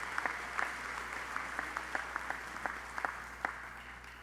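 Audience applause for a choir at a university opening convocation, steady, moderately distant clapping that continues throughout with scattered sharper individual claps and no voices.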